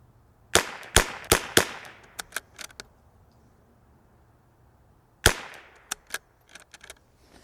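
Rimfire rifle shots fired with CCI Standard Velocity ammunition on a target range: a quick string of about five sharp cracks, a pause, then several more spaced shots. There is no talking.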